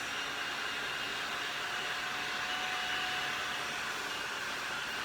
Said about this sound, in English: Now I will take the blow dryer to secure it in place.